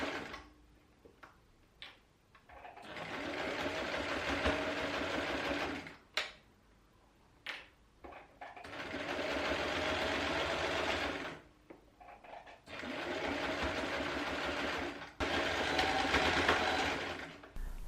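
A sewing machine stitches a seam on a pinned men's shirt for an upcycling project in several loud, close bursts of fast stitching, each a few seconds long, separated by short quiet pauses.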